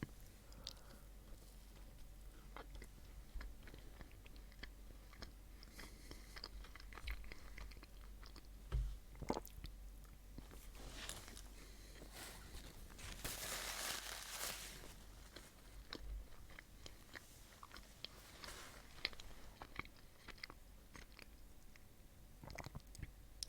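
A Crumbl cookie is chewed close to the microphone in soft, moist, repeated bites and mastication, quiet and intimate, with a few crunchier moments mid-way and no talking.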